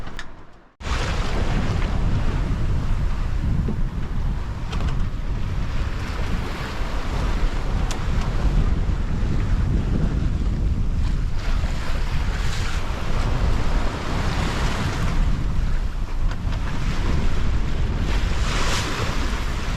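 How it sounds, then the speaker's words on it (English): Strong night wind at sea roars without a break over rushing waves around a small sailboat on the Pacific, a dense, steady wash of noise with gusts swelling and easing. "Just saying it's a windy old night tonight. Windy out there."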